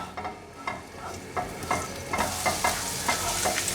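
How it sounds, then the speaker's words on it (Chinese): Minced ginger stir-fries in hot oil in a pan, a loud sizzle rising partway through while a spatula scrapes in a steady rhythm of repeated strokes, with no voices. "放入姜末炒香，给姜末爆一下"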